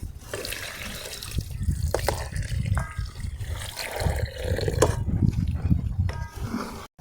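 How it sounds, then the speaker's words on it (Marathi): Water is poured into a pan for misal, a continuous gushing and splashing up close with small clinks from the pan along the way. "आणि यामध्ये आपल्याला आता पाणी ओतायचं आहे"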